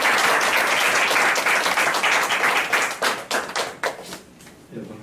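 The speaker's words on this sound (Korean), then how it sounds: "박수로 맞이하겠습니다." A congregation at a Friday worship service applauds to welcome the guest speaker. The clapping is dense at first, then thins into a few scattered claps and dies out by the end.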